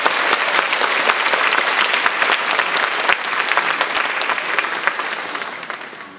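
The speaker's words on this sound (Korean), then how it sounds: "다시 한번 차세대 뮤지컬 스타들이 보여준 실력과 열정에 여러분들 뜨거운 박수 부탁드립니다." Dense, loud audience applause at a family concert of music and poetry, honoring young musical theatre performers; a steady wash of many hands that slowly tapers off toward the end.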